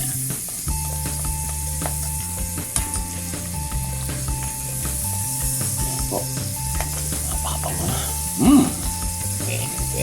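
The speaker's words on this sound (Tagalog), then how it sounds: "Satayin natin ang ating garlic, minced garlic na prepare kanina." Minced garlic and red onion sautéing in a pan for Filipino crispy buffalo chicken, with a steady low sizzle and occasional stirring scrapes running through the whole stretch and a brief louder clatter near the end.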